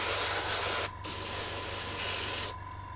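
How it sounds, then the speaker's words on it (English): A white primer spray can hisses close up in steady bursts, with brief gaps and a thinner, weaker spray toward the end as it runs out, no talking. "And that's the sound of white primer running out."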